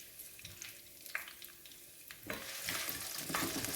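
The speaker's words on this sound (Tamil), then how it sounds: "பச்சை மிளகாயும் காஞ்ச மிளகாயும் தான் காரத்துக்கு போட்டிருக்கிறேன் ஆகவே தாராளமாகவே போடுகிறேன் அது நல்ல வாசனை வீசி வரும் வரைக்கும் வதக்கவும்" Green and dried chillies fry in a pan. A soft sizzle runs under occasional stirring scrapes and grows louder and denser partway through, with no voices.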